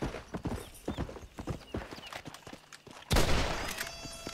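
A horse gallops in the Red Dead Redemption video game, its hoofbeats a quick, rhythmic clip-clop close by, until a sudden loud burst of noise like gunfire takes over near the end.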